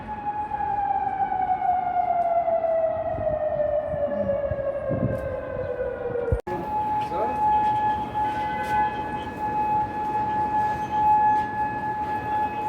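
A loud wailing alarm siren in Kuwait drones continuously, its pitch sliding down and then holding steady, with a sharp click partway through and background noise underneath.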